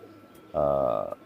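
A single Pakistani Teddy pigeon gives a short, close, throaty coo with a pulsing rolling quality, heard among a group of pigeons for sale.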